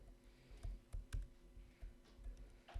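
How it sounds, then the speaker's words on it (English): Keys click faintly on a computer keyboard, typed with one hand in irregular bursts of taps and pauses in a quiet room. "Typing in one hand is actually surprisingly tiring."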